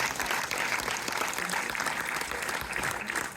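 A crowd in a Montpellier multiplex applauds steadily after a premiere screening, the clapping thick and continuous throughout with some indistinct chatter beneath it.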